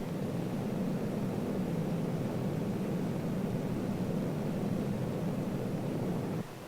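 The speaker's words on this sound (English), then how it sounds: "The captain pushes the throttle, and the big jet starts off." A big four-engine jet rolls for takeoff, a steady, broad roar heard from inside the cabin, constant in level before it cuts off at the end.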